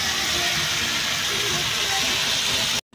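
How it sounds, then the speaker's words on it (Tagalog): A loud, steady hiss of sardines sautéing in hot oil in a pan fills the clip, close up and continuous, then cuts off abruptly at the end. "Igisa muna po natin."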